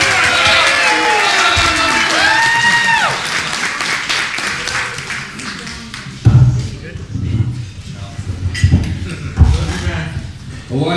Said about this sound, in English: a round of applause for Mark Gason